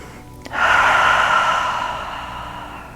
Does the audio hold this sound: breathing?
yes